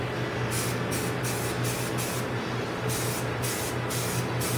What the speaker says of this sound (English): let's go ahead and start spraying it